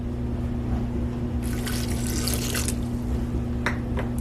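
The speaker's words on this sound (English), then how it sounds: "Now I'm going to add my vinegar" Vinegar poured over seasoning for a pork shoulder, a brief close splashing trickle over a steady background hum, followed by a few short liquid spatters.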